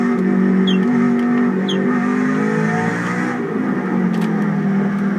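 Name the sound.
Radical race car engine revving in iRacing video game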